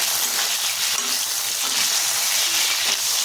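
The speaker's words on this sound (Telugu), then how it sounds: "పచ్చిమిరపకాయ బాగా వేగాలి" Green chillies frying in a pan for a tamarind and coconut chutney, giving a continuous even sizzle of hot oil throughout, close and fairly loud, with no talking.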